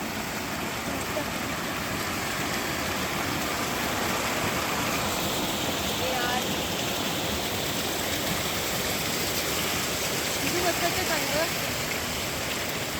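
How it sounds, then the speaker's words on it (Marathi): A stream flows down through hillside rice paddy fields in the Konkan, a continuous, close rushing and babbling of water with faint voices in the background now and then. "हे बघा किती छान आवाज आहे पाण्याचा."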